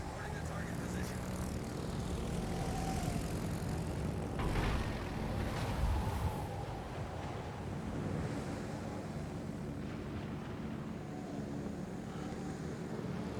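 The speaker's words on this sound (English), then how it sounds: "Noorg is taking the torpedo bombers, coming in for a run" Torpedo bomber aircraft drone steadily through a World of Warships naval battle, a continuous propeller hum over a wash of ocean and surf noise, with a commentator talking over it.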